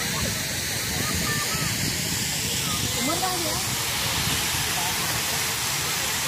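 Steady broadband rush of flowing water at Jillani Park on a race course grounds, a continuous hiss filling the whole stretch with faint voices of visitors mixed in beneath it.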